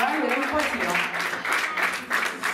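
An audience at a music school recital applauds continuously, a dense wash of clapping heard under someone speaking over it.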